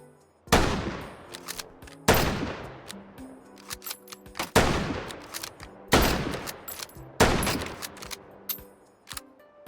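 Model 70 bolt-action rifle in H3VR fired five times at steady intervals, each a loud, close crack with a ringing decay and faint clicks between shots.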